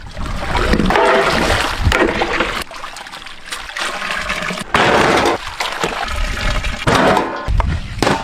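Tap water splashes and trickles over cauliflower being washed for a tandoori cauliflower dish, loud and close, running in bursts with short pauses between them and no talk.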